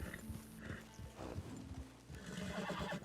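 A horse in the Red Dead Redemption 2 video game whinnies while hooves clip-clop steadily, with faint forest ambience behind.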